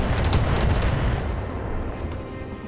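Long-range missile salvo fired by a BattleTech mech, a loud rumbling barrage of booming launches that rolls and thins out over a couple of seconds with no voices.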